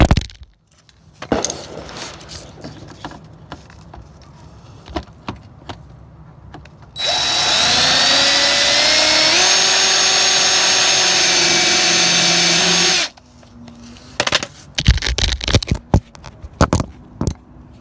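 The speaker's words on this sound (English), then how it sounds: "I just made the hole with that drill bit." A power drill bores a mounting hole for a car's rear diffuser on a Nissan 300ZX, one steady whining burst of about six seconds with a pitch shift midway, set between quieter clicks and handling noises.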